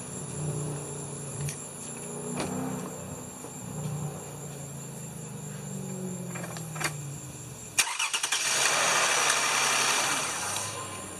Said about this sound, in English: And let's see what happens when we crank it up.